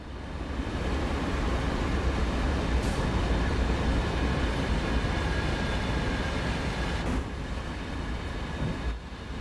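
An MBTA commuter locomotive with modded sounds in a Boston commuter rail train game gives a steady, heavy rumble of engine and rolling wheels, loud and unbroken, with a couple of brief clanks.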